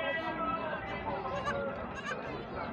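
Goats bleating in overlapping calls among a crowd at a goat and sheep livestock fair in Santa Cruz do Capibaribe, under steady loud chatter and voices nearby.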